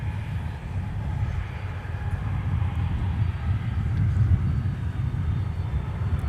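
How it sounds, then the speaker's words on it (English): A Delta airliner, flight 152 bound for Charles de Gaulle, lines up on runway 12 right at Minneapolis–St. Paul Airport, giving a steady low jet rumble heard from a distance, with no talk over it. "there is Delta 152 off to Charles de Gaulle, lining up with runway 12 right"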